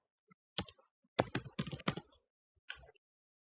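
Typing on a computer keyboard during a bug bounty demonstration, entering a short word: a few scattered clicks followed by a quick burst of close keystrokes and a final tap, with no talk.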